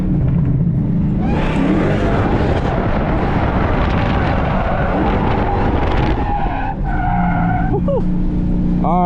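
Driftcat drift car fitted with an angle kit roars at full throttle while drifting on a test day, a loud continuous engine drone mixed with tyre skid and squeal, rising and shifting pitch near the end.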